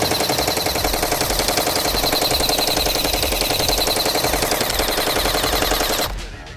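Havoc gel blaster fires in a sustained, rapid full-auto burst, loud and close, for about six seconds before cutting off abruptly.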